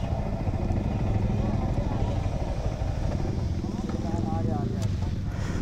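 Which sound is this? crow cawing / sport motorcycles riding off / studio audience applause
sport motorcycles riding off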